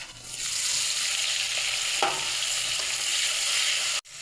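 Prawns frying in hot oil with cumin seeds, a steady, close, loud broadband sizzle that holds evenly throughout, with a brief stir or clatter near the middle and a short break just before the end.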